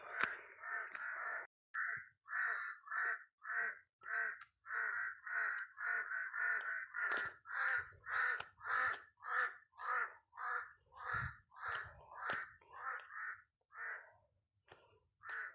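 Crows cawing over and over in a steady, loud run of harsh calls, with several birds overlapping at a roosting spot along a walking path to a church, and a faint insect hum underneath.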